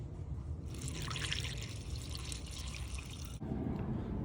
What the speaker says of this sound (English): All right, just pour it in.